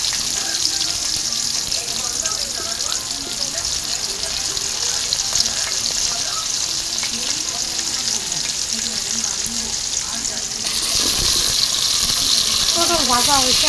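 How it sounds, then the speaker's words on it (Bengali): Pointed gourd (potol) frying in hot oil in a pan, a steady dense sizzle throughout with occasional stirring clatter, growing louder and brighter near the end. "পটল ভাজা হয়েছে, আমি তুলে নিই।"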